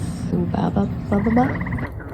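A leopard frog's low, rattling croak at night in an Ontario wetland, a series of rapid pulsed calls repeated a few times, close and fairly loud.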